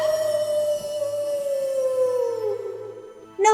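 A long, wavering howl from a werehound in a radio play, a single sustained cry that slowly falls in pitch and fades, close and clear, ending with a brief sharp sound.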